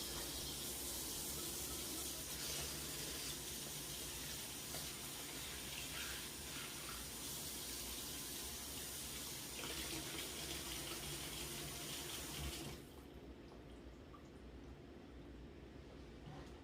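Raw chicken thighs are rinsed under a running kitchen tap, a broad steady hiss of flowing water that drops to a quieter trickle toward the end.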